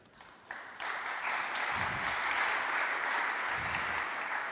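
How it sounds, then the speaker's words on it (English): A conference audience at a broadcast technology symposium and awards event breaks into a round of applause for sponsors, rising quickly from near quiet to steady, sustained clapping that fills the room. "let's have one final round of applause for all of our sponsors here this year"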